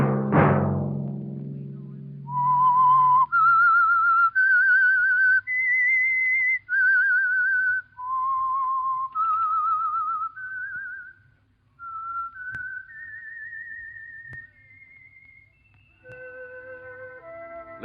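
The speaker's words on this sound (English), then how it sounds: "Let that whistle be your signal for the Signal Oil program, The Whistler" A lone whistler carries the eerie theme melody of The Whistler radio program, a long sustained tune of held and gliding notes, clear and close after a brief low opening tone.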